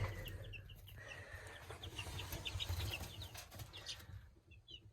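Soft peeping and clucking from young hen chicks just growing feathers in a brooder close by, with occasional wing flutters over a low background hum, all quiet.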